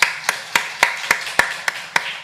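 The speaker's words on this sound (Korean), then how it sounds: "주님께 박수 한번 하겠습니다." A church congregation applauding during a Sunday service: sharp, evenly spaced claps in a steady rhythm, about nine in quick succession, close and clear with no talking.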